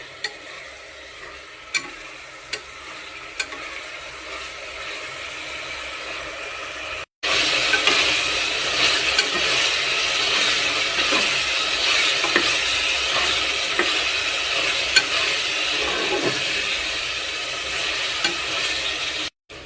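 Onion and garlic fry in oil for a village-style chicken curry, first a quieter sizzle with a few sharp clinks, then after a brief break a louder, steady frying hiss with occasional stirring scrapes, close and alone.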